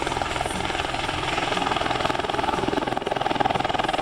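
A helicopter at an airfield air show performs an aerobatic display flight, its rotor giving a continuous rhythmic chopping thrum, fairly loud and steady throughout.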